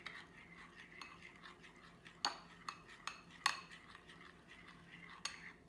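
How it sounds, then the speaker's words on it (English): A spoon stirs a loose, soupy mixture in a bowl, with soft, steady scraping and a few sharper clinks against the bowl's side, close and fairly quiet. "And this has been like less than a minute that I'm stirring."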